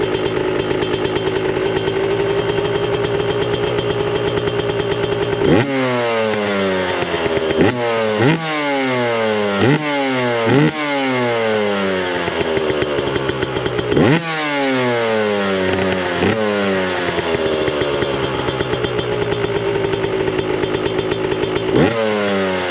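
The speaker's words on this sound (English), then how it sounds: "So I'm starting the bike with the Smartcarb, no throttle, just kick it over." Yamaha YZ125 two-stroke dirt bike fitted with a Smartcarb SC2 carburetor and Boyesen RAD valve, kick-started and idling close up with a buzzy, ringing tone, broken by a series of sharp throttle blips that rise and fall in quick bursts.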